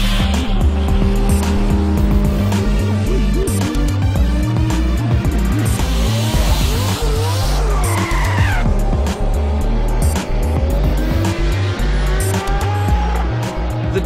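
A 1,000-plus horsepower Nissan R33 drag car roars down a drag strip on a low power setting, tires squealing and spinning the entire way under loud, sustained engine noise that surges and shifts pitch throughout.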